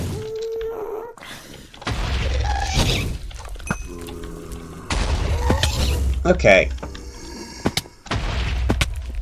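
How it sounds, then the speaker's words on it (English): Explosions in the Monumenta Minecraft server's Grey Dungeon boom in irregular bursts amid clattering game effects, with ghasts around and a voice briefly talking over the din. "Explosion City."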